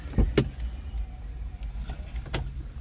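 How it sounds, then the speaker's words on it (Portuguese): With the engine off, an electric power window on a VW T-Cross runs as a low motor whir, with a couple of sharp clicks or thumps at the start and another near the end, close by and with no talking. "Abriu a porta, vidro continua funcionando, desligado o carro."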